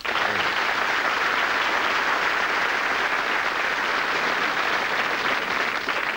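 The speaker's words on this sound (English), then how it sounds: "Give them a round of applause." A full round of dense, even applause from an audience at a quiz night, continuous and loud from start to finish with no talk.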